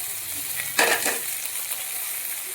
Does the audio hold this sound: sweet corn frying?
yes